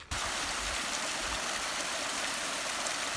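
A stream of water in Glen Affric runs steadily and close by, a full even rush of flowing water with no voices.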